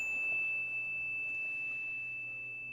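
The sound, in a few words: ringing of a clear bell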